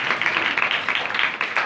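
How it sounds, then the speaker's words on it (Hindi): Applause from a Sunday morning church congregation at a Pakistani ministry meeting, a steady wash of many hands clapping at moderate volume with no talk over it. "शीजा के लिए जोरदार तालियां"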